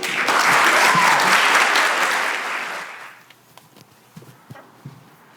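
Loud audience applause at a one-person show performance fills the first three seconds, then fades out, leaving a few scattered, faint claps and small noises.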